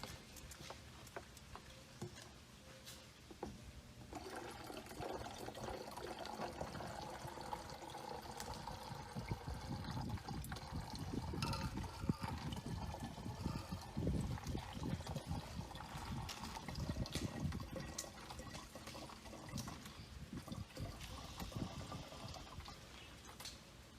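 Water poured into a plastic bottle to fill it to one liter, a steady faint trickle and splash that builds in the middle, with light ticking, close and quiet.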